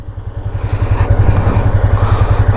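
A motorcycle engine with a dead battery catches and settles into a loud, steady running throb, its rapid pulsing rhythm close and continuous throughout.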